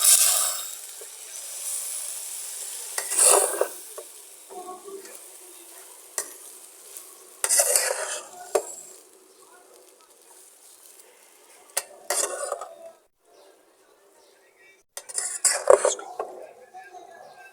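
Chicken spaghetti is stirred and tossed in a pan in irregular bursts of scraping, clattering utensil strokes and light sizzle, separated by quiet gaps.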